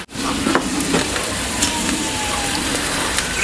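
Chicken pieces coated in Mexican spice rub are stirred, producing a continuous, dense sizzle and crackle with occasional scraping clicks throughout.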